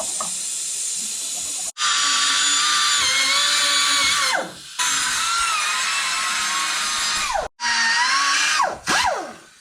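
A pneumatic air tool fitted with a wire brush, used on car trailing arm bushings, whines loudly in long sustained runs with shifting pitch, stopping briefly several times.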